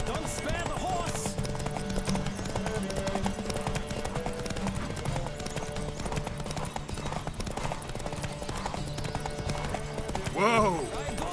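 Galloping horse hooves during a race in The Witcher 3, a continuous rapid clatter of hoofbeats under music and ambient game sound, with a short voice toward the end.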